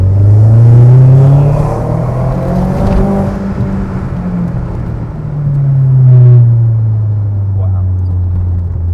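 A Seat Leon Cupra R with a 1.8T BAM 225 engine pulls hard in second gear: a loud, close engine note rises in pitch, eases, then climbs again over steady road rumble.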